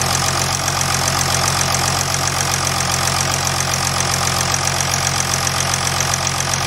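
A 2008.5 Jeep Grand Cherokee CRD diesel engine idles after a remote start, giving a loud, steady, close-up rumble with a continuous rhythmic diesel clatter and no change in pace.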